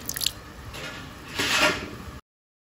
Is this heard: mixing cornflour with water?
yes